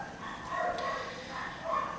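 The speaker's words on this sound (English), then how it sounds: "I don't know why they're barking so early in the morning." Dogs bark off in the distance, a few scattered yips and barks over steady background hum, fairly faint and with no talking.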